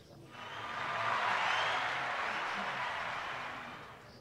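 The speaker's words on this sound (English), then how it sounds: "Round of applause." Spectators applaud at a PBA Scottish International Open bowling qualifier, a broad wash of clapping that swells up, holds, then tapers off over a few seconds.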